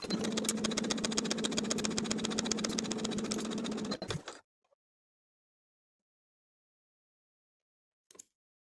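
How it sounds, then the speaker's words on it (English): Sewing machine stitching darts on a skirt: a steady, rapid, close mechanical whir for about four seconds that stops abruptly, then near silence broken by one brief click. "Then I'll sew the darts from the top to the point, leaving thread tails at the point so I can tie them in knots."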